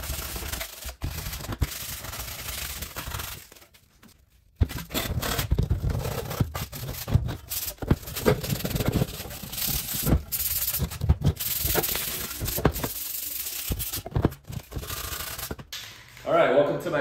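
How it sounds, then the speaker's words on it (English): Sandpaper rubbing by hand inside the shroud of a 1955 Lawn Boy 8F20 K mower being restored, a steady scratchy scrubbing in irregular strokes with short pauses, close up, with someone talking over parts of it. "I'm just gonna go through and hit the inside with some sandpaper"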